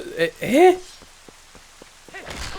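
Rain patters in The Legend of Zelda: Twilight Princess HD, sparse drops ticking on a surface beneath a short stretch of voice, with quieter pauses between the drips.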